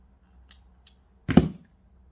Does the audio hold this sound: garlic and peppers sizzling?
no